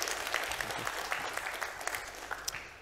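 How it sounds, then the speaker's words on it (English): At a European defence industry panel, the audience gives a round of applause for Sweden's defence minister, a moderately distant, steady patter of many hands with a few sharper individual claps standing out. "If you can give him a round of applause, please."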